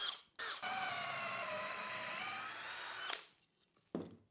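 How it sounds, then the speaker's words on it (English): A power drill bores all the way through a wooden section resting on a scrap board, one sustained high whine of about three seconds, close and loud, followed by a brief second burst. "we're going to drill holes into each of these 4 sections, and we're going to go all the way through"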